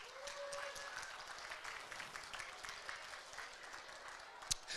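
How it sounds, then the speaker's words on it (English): Audience applause at an Ontario butcher competition finale, a soft continuous patter of many hands heard from a distance, with a brief voice at the start and a sharp knock near the end. "Can we give them a round of applause?"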